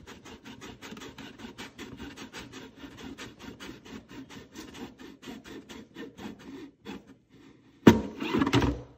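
A knife saws across a plastic container being cut into a garden scoop, giving a steady run of close, rhythmic rasping strokes that slows and stops, followed by a louder, brief crackle of handling.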